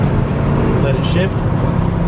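A 1969 Oldsmobile 442 runs close by, its engine note rising with a shift under a low rumble, while a voice talks over it.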